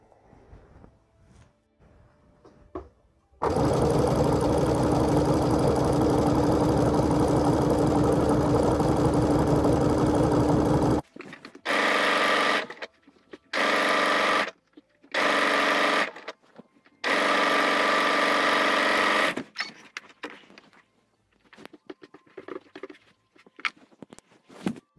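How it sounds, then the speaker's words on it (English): Sewing machine running a stretch stitch to topstitch lace onto handmade knickers, a fast loud whirring in one long run followed by several shorter bursts with brief pauses, then quiet handling noises. "I've top stitched everything now using a stretch stitch"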